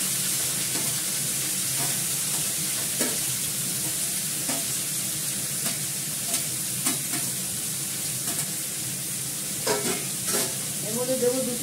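Finely chopped pumpkin and potato fry with black cumin seeds in oil without water, a loud, continuous sizzle with repeated stirring scrapes close by and no talk.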